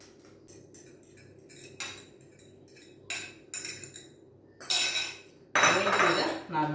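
Beaten egg being stirred into cooled milk in a pan for caramel pudding, heard as a series of close metallic clinks and scrapes of a spoon against the pan, growing louder and denser toward the end.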